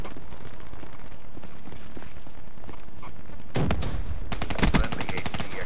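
Rapid SMG fire from a high-powered submachine gun in Call of Duty Black Ops III multiplayer, a loud dense burst of shots near the end after a stretch of quieter game ambience.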